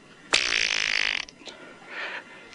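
A person blows a buzzy, raspberry-like fart imitation lasting about a second, close and loud, followed by a shorter, softer blurt.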